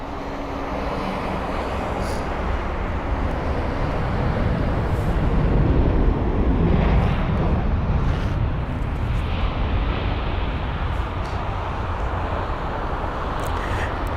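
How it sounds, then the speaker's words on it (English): United Airlines Boeing 787-9 Dreamliner jet at London Heathrow, a broad continuous engine roar that swells in the middle and stays loud to the end. "this was flight number UA923 for the United Airlines 7879 Dreamliner with the reg November 15969 from Los Angeles LAX"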